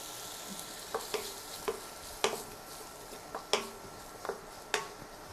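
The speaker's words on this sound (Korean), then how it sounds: "순서대로 볶아낼게요" Onions and vegetables for japchae stir-fried in a pan, a soft low sizzle punctuated by about ten sharp scraping clicks of a utensil against the pan at uneven intervals.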